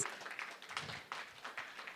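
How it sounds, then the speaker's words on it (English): A church congregation applauds briefly, a quiet scatter of claps from a modest crowd, fairly distant and soft. "Yes, round of applause."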